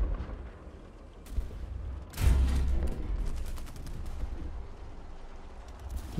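A Tiger II (H) tank gun in War Thunder fires a single loud, deep boom with a heavy low-frequency punch, followed by a rolling decay and scattered distant battlefield rumble.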